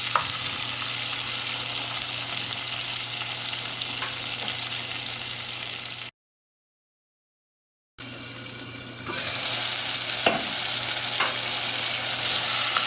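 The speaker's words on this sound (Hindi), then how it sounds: "ऑयल आपका गर्म हो जाएगा तो आपने इसमें 3 बड़े टमाटर जो हैं वो इसमें डाल देने हैं।" Garlic ginger paste fries with steady sizzling in a hot pan with softened tomatoes, occasional stirring scrapes, the sizzle swelling louder toward the end after a brief gap of silence.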